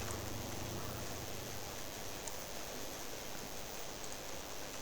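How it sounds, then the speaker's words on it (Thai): Steady, even hiss of rain in GTA San Andreas running an ENB graphics mod, a constant broadband wash with no breaks, heard alone. "แล้วก็ฝนตก ฝนตกอ่ะ"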